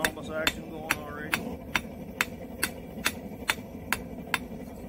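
A hammer strikes hot steel while a BBQ fork is forged, about a dozen sharp, ringing blows at a steady rhythm, close and distinct against a quiet background.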